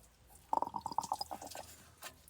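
Coolant dribbling and gurgling out of an opened thermostat housing on a Toyota FZJ80 Land Cruiser with the 1FZ-FE engine, a quick run of close wet trickling pulses that fades after a second or so.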